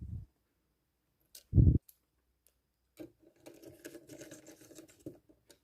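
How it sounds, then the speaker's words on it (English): Spring-loaded screws are driven back into an Acer Aspire 5750 laptop, a couple of brief knocks followed by a quiet run of small ticking, rattling screwdriver clicks close by. "screwing them back in number order as well"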